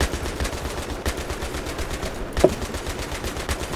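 Rapid machine gun fire from the video game Battlefield 3 rattles continuously in steady bursts, with one sharper crack standing out partway through.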